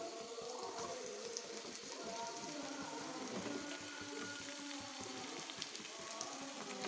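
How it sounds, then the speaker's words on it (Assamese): Ginger and garlic fry in a pan, with a continuous soft sizzle and hiss and a few faint clinks from stirring, and no talking. "আৰু ধুনীয়াকৈ লৰাই ল'ম কেঁচা গোন্ধটো যোৱালৈকে"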